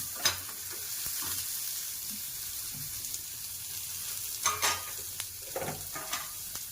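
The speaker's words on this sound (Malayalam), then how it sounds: "പിന്നെ നമുക്ക് നമ്മുടെ ചെറിയ ഉള്ളി ഒരു ഇച്ചിരി വേണം. അത് ഇതിനകത്തോട്ടിട്ട് നമുക്ക് ഒന്ന് മൂപ്പിക്കാം." Small onions (shallots) fry in hot oil with a soft, continuous sizzle, joined by scattered scrapes and taps of stirring that cluster toward the end.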